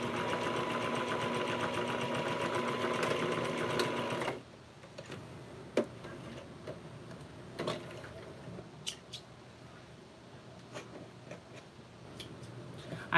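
A sewing machine runs steadily while stitching seams on a crazy quilt coaster, a close, even mechanical whir for about four seconds that then stops, leaving faint handling clicks and taps.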